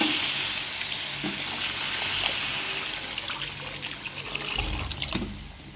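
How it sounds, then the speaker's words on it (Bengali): Water poured into a pot of whole roast chicken gravy for boiling, a continuous close splashing trickle over a hissing background, fairly steady for several seconds. "এখন সিদ্ধের জন্য পানি দিয়ে দিচ্ছি"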